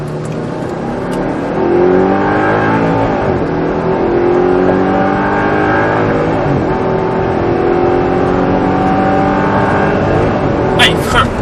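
An Audi R8 accelerates on the Le Luc race track, its engine note climbing in rising sweeps, loud and close from inside the car, with an instructor talking over it.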